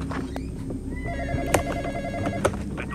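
A telephone rings in the Roblox horror game Graveyard Shift, a steady electronic ringing tone that pulses across the clip over a busy game soundscape with a couple of sharp clicks.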